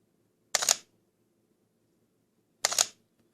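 Two crisp mechanical shutter clicks from a Sony A7 mirrorless camera, each a short double snap, spaced about two seconds apart in near silence.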